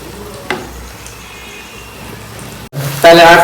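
Snacks drop into hot oil in a pan for deep frying; after a quiet stretch with faint clinks, a loud, steady sizzle suddenly bursts up near the end.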